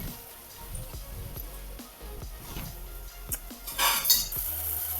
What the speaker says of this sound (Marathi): आता ही भाजी अशी मोठा गॅस केलाय थोडासा पाच मिनिट अशी सगळी मिक्स करून घ्यायची